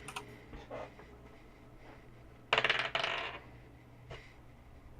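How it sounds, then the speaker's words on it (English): Dice rolling in a Roll20 tabletop game played in VR: a quick clattering burst mid-clip, then a softer rattle, over a low background hum. "I was rolling dice."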